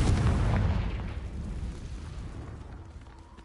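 A Confringo spell blast in the Hogwarts Legacy video game, a single heavy booming explosion with deep rumble that decays over a few seconds, loud and close.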